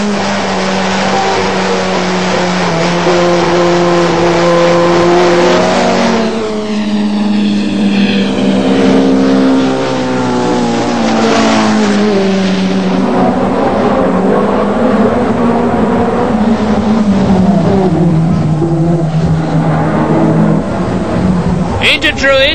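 Touring car engines, including a Ford Sierra Cosworth RS500 and a VW Golf, roar and whine continuously in a British Touring Car Championship race, pitches rising and falling as cars pass, with a commentator talking throughout.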